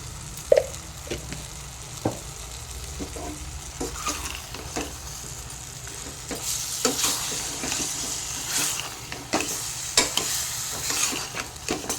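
Mutton with turmeric cooks in a pan, sizzling steadily as repeated stirring knocks and scrapes sound close by, and the frying grows brighter and more active in the second half.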